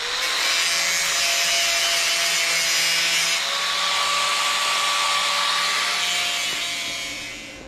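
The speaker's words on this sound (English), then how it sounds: "I'm gonna use the sanding disc on that grinder to just shape it a little bit" A grinder fitted with a sanding disc shapes a metal piece for a 270-degree overland awning build, giving a loud, steady, high whine with a constant grinding hiss that runs the whole time and tapers off near the end.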